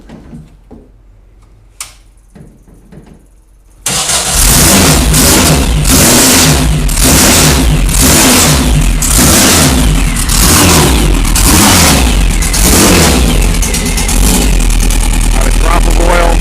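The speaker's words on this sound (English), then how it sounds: "All right, let's fire it up, and then we're going to show you the engine compartment" A Porsche race car engine cranks briefly, then fires and roars into loud, close revving with repeated throttle blips that rise and fall before settling toward idle.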